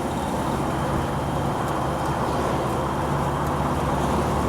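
A 1961 Chevrolet Corvette C1 driving on the road, a continuous broad rumble of engine and road noise with a subtle change as it shifts into fourth gear.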